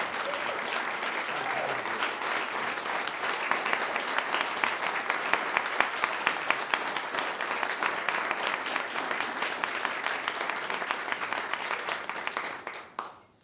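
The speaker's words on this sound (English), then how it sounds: "How about one final round of applause for all of our Kansas All-State Wichita Public Schools student musicians" Audience applause for student musicians from Kansas All-State and Wichita Public Schools at a board of education meeting, sustained and steady dense clapping that fills the room for about thirteen seconds before tapering off.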